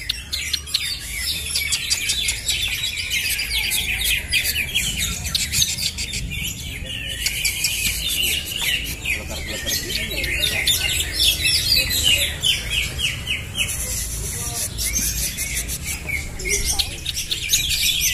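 Green leafbirds sing in a crowded bird contest, a dense, continuous stream of fast chirps, trills and squawks at close range over low background noise.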